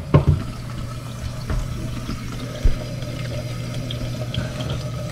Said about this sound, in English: heard water come on